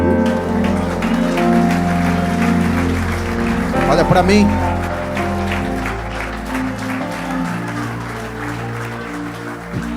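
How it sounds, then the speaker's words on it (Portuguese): A church congregation applauding during a worship service, the clapping a moderate, rippling patter mixed under sustained music and a speaking voice, with a brief louder burst near the middle. "Pode aplaudir a Jesus."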